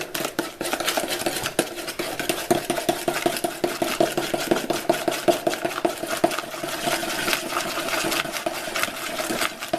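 Yogurt cake batter being stirred in a salad bowl, with a steady, busy run of scraping and light clinking as the utensil keeps contact with the bottom of the bowl, close and continuous with no voices.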